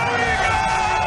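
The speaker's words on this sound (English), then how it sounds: "Listen to the crowd. They are roaring." A large stadium crowd at a Philadelphia Eagles football game roars in a steady, loud, sustained wall of cheering and yelling.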